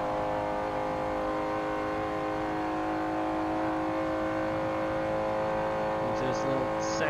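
A race car engine in the Forza 7 video game holds a steady high drone in sixth gear, its tone climbing slowly as speed builds, loud and continuous throughout.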